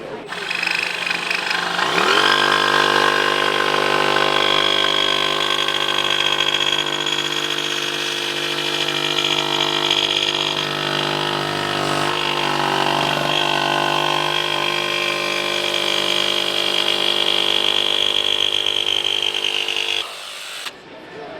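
Milwaukee M12 barrel grip cordless jigsaw cutting through 1-inch maple hardwood, a loud, steady motor whine with rapid blade chatter that spins up and holds for about eighteen seconds, then stops.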